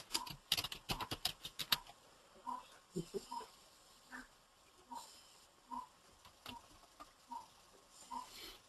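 Rapid bursts of computer keyboard typing during work in Oracle Applications, followed by slower, spaced individual keystrokes, close and fairly quiet with no talking.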